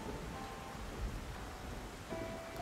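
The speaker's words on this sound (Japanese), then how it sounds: "嵐が吹き荒れる夜。" Heavy storm rain in the video game Dave the Diver, a steady wash of rainfall pattering on surfaces, continuous and even throughout, with a faint tonal element late and no talking.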